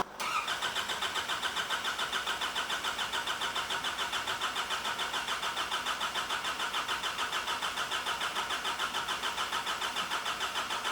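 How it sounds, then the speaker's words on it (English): A Nissan Patrol engine cranking over with no fuel injection, its starter grinding in a fast, even rhythmic chug that carries on steadily for about ten seconds without the engine catching. "let me just give it a crank for 15 seconds"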